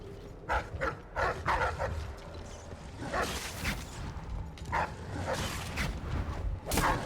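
A dog barking in the video game Dishonored, several close, sharp barks spaced in irregular bursts over a muffled background rumble.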